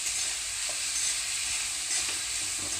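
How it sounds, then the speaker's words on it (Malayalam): Kerala chicken biryani masala with salt added fries and is stirred in a pan, giving a loud, steady sizzle with faint stirring scrapes throughout. "എടുത്തു വെച്ചിരിക്കുന്ന ഉപ്പ് ഇതിലിട്ട് നമുക്ക് ഇളക്കാം."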